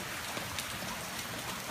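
Steady rain falls outdoors, a dense continuous patter with scattered louder drops on wet surfaces, filling the short stretch with no voices.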